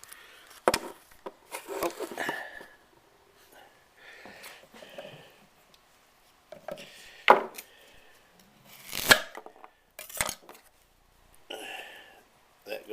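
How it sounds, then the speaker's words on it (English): A knife chops small carrots on a wooden cutting board for chicken noodle soup, irregular knocks and scrapes at close range, with a brief spoken exclamation among them. "Alright, now it's time to cut the carrots up."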